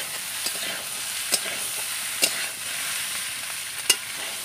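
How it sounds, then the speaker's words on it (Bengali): Taro corms (kochur mukhi) sautéing in an oiled pan give a steady close sizzle, broken by three or four sharp scrapes of a spatula against the metal. "কচুরমুখিটা কষে নিচ্ছি দেখো।"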